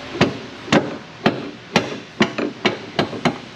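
A hammer strikes a bolt on a car's suspension subframe, landing about eight sharp metallic blows in a steady, slightly irregular rhythm, loud and close with no talk.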